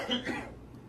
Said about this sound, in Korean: 방송하는데 기침하시고